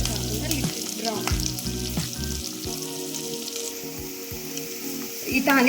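Chopped onions, green chillies and curry leaves sizzle in oil for a Maggi tadka, a close steady frying hiss broken by occasional spoon scrapes and stirring knocks against the pan.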